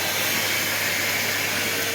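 A vacuum cleaner hoovers out the inside of a van, giving a steady, loud, unbroken airy whoosh and motor hum that holds constant throughout, with no voices.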